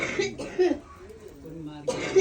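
A person coughs in two rough bursts, one at the start and another near the end, with a quieter stretch between them. The coughing is close and moderately loud.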